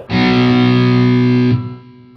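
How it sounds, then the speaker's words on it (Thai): An acoustic guitar run through a distortion effect strums one loud, gritty power chord from the intro riff of a song. The chord is sustained for about a second and a half, then cut off and left to fade. "เอฟเฟกเสียงแตกดิโทชันบ้างนะครับ"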